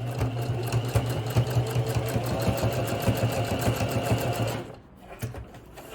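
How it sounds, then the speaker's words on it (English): A sewing machine running a straight stitch while making a toiletry or makeup box pouch: a steady, close mechanical whir with a fast rhythmic needle beat, stopping abruptly near the end, followed by a few light handling sounds. "we're going to take it to the sewing machine, and we're going to stitch all the way down here on this side"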